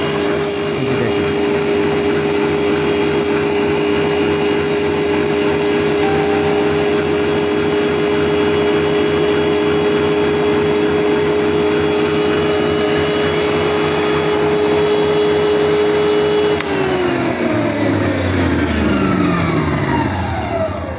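A Panasonic electric meat grinder motor runs loud and close with a steady high whine and rumble for about seventeen seconds, then winds down as it is switched off.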